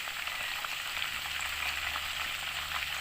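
Chicken pieces frying in hot oil in a pan, a loud, steady, close crackling sizzle that continues without pause and without talking.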